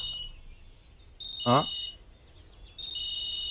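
An electronic phone ringtone trills in repeated bursts, interrupted midway by a short rising chirp before the ringing resumes.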